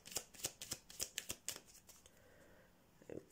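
Oracle cards being shuffled by hand, a quick series of crisp riffling bursts at a steady rhythm that then trails off into quiet, with a brief rustle near the end.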